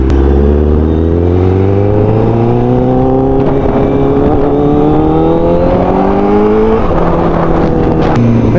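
A Honda Triple R SP naked motorcycle on Michelin tires under way, its engine droning loud and close as it climbs steadily through the revs, with a gear change near the end and no talk.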